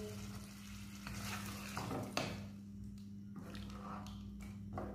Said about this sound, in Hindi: अच्छी तरह मिक्स करेंगे।